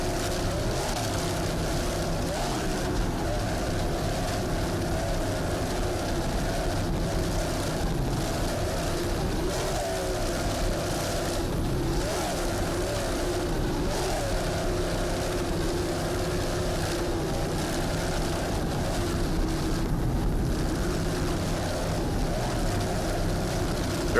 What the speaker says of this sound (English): we're watching this offshore powerboat racing Jersey boy style.